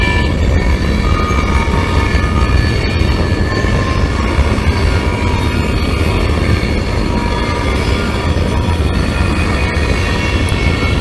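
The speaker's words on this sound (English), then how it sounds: "that wheel squeal really tears it up" A loud passing freight train with distributed power units, its high, sustained metallic wheel squeal ringing over the steady rumble and clatter of the cars, continuous throughout.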